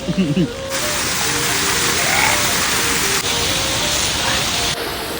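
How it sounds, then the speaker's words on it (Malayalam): Heavy rain pours in a steady, dense hiss after a brief moment of a voice at the start. "മഴ ഉറക്കുന്നു"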